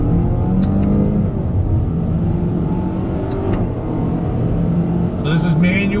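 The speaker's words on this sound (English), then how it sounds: "Put it into manual shift mode. We're going to use the paddles. I'm making a U-turn here. On throttle, here we go." A 2021 Toyota Corolla Nightshade pulls away under throttle in manual paddle-shift mode, its engine droning steadily through the cabin with rising, stepped tones as gears change, loud and continuous throughout.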